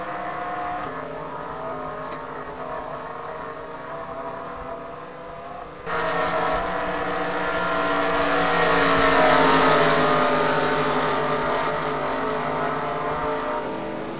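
NASCAR Craftsman Truck Series trucks roaring off at the start of the O'Reilly Auto Parts 250 at Kansas, a loud engine drone that builds and swells as the pack pulls away, with no talk.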